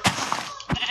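A sheep bleating in a modded Minecraft-style game, two short, close, loud bleats about half a second apart over steady background game noise.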